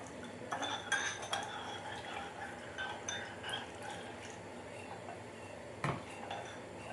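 A spoon stirs yeast into warm water in a bowl, with light repeated clinks and scrapes against the container and a brief louder knock near the end, quiet and close.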